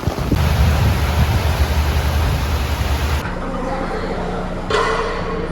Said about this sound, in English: This is Panamanian weather for you. Wind and everything.